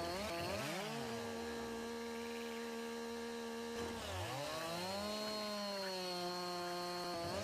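A chainsaw in Farming Simulator 19 cuts wood, its whining engine revving up and down in repeated sweeps with a short dip midway. The sound is steady and moderately quiet, with no talking.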